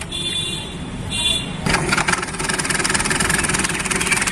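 A scooter engine idles nearby with a rough, gritty grinding rattle. A starting burst comes first, then a steady, loud running noise with hissy, scraping overtones that carries to the end.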